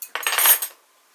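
A folding multi-tool knife with a fork and spoon is handled, giving a quick flurry of bright metallic clinks and rattles over about half a second, close up, then silence.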